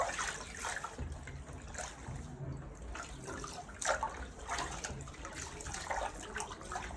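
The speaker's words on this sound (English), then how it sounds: "I'll rinse the chaff one more time to extract more pap." Water trickles and splashes while sorghum chaff is rinsed to draw out pap, a close, continuous wet sloshing with irregular louder splashes and no talking.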